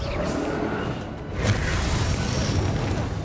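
A fiery Confringo spell blast in Hogwarts Legacy, a low rumbling boom that swells midway and lingers with a whooshing tail, fairly loud and alone.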